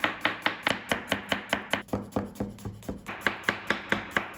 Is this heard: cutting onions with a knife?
yes